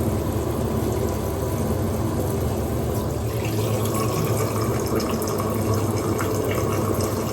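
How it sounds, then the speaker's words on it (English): Water runs steadily from a bathroom tap as someone washes their face at a sink, with a continuous close splashing wash and a brief voice near the start. "I'm just scrubbing my face."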